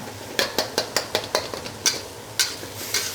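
Ground pork fries in a pan for dan dan noodles, a low sizzle broken by a quick series of sharp spatula taps and scrapes, then a few slower strokes, with no talking.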